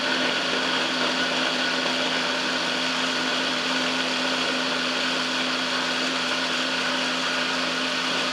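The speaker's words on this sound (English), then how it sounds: "we're going to get blending." A countertop blender chops superfood smoothie ingredients on its slow setting, making a steady, loud motor whir with a constant pitch for the full stretch, with no talk over it.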